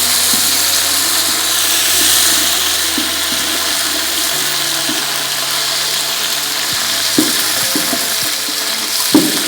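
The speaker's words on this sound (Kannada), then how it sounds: "ಪುದೀನ ಫುಲ್ ಫ್ರೈ ಆಗಬೇಕು." Mint leaves frying hard in a pan for Ballagiri Gowdru biryani make a loud, continuous sizzle, with a few clattering stirs toward the end and no voices.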